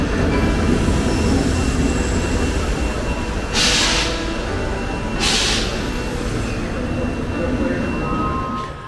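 A train on the roughly hour-long ride to Taormina, Sicily, rumbles steadily throughout, and two brief hissing bursts rise above the rolling noise. Faint talk sits under it.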